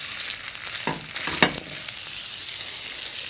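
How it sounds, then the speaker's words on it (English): Thick NY strip steaks searing in a smoking-hot oiled pan, a dense continuous sizzle with a couple of louder crackling bursts early on, close and unaccompanied by speech. "we can go ahead and start searing our steaks."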